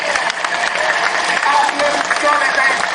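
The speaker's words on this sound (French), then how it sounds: "Applaudissons le peuple haïtien" A large crowd at an anniversary gathering applauds and cheers for the Haitian people, loud sustained clapping filling the whole stretch with voices mixed in.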